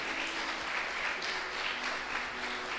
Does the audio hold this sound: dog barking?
no